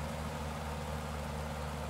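A de Havilland Tiger Moth's piston engine, throttled back in Microsoft Flight Simulator, drones as a low, steady idle hum, faint and unbroken with no voices.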